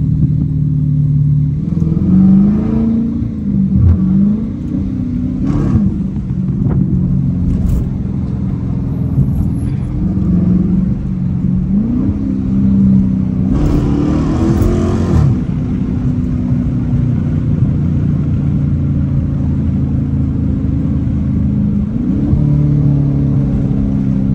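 A Dodge Challenger R/T engine drones loud and close from inside the cabin, pulling hard with repeated rises in pitch as it accelerates through gears, plus some road rumble.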